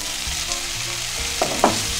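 Chicken in an intense sauce sizzles and fries steadily in a pan up close, a continuous crackling hiss with a couple of brief stirring clatters near the end and no talking.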